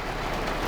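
Steady rain falling, a dense, continuous hiss of drops on surfaces, close and even throughout with no voices.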